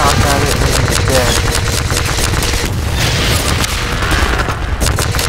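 Gunshots fired at a Strider in Half-Life 2 Episode, a dense, loud stream of rapid shots and booming impacts that runs the whole time without a break.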